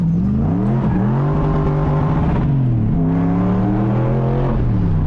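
A loud V8 engine in a BMW E36 held at high revs, bouncing against the rev limiter with a rapid, stuttering buzz and brief dips in pitch.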